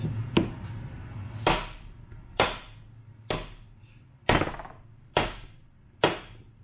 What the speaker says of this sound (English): I always use rubber hammer, but I hit the drive end of the crank usually.